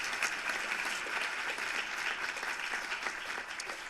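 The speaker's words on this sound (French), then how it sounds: "On peut bien les applaudir." Soft, continuous applause from an audience at an association's gathering forms an even wash of many hands clapping, heard from some distance at low volume throughout.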